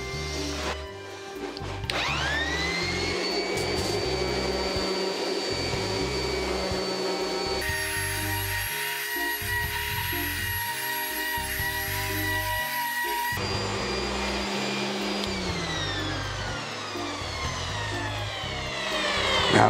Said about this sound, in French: donc je passe à une séance de ponçage